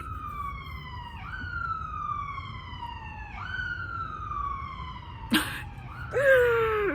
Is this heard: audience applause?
no